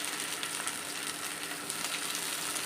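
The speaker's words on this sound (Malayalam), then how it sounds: "നമുക്കൊന്ന് വഴറ്റിയെടുക്കാം." Onion, green chili, curry leaves and tomato sautéing in a pan for fish curry, a steady, fairly quiet sizzle and crackle of frying with no talking.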